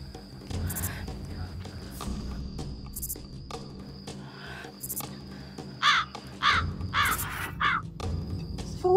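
Several harsh crow caws ring out in a quick burst near the end, at night, after quieter stretches with soft murmuring voices and faint rustling.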